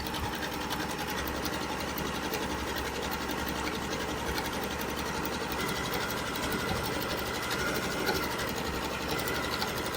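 A Janome Continental M6 sewing and quilting machine stitching through a quilt, a steady fast mechanical whir and rattle that runs without pause, close and even in level.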